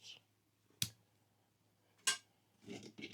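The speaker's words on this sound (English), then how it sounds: "I have a titanium fork, which opens." A titanium folding fork snapped open, two sharp metallic clicks about a second apart followed by softer handling rattles, close and quiet in a still room.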